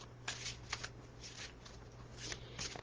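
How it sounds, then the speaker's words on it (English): Tarot cards shuffled by hand in quick riffling bursts, several crisp papery flurries separated by short pauses over a low steady hum, close and fairly quiet. "I'm just going to give them a nice little shuffle with my intent"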